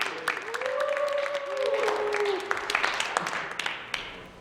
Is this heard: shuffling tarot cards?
no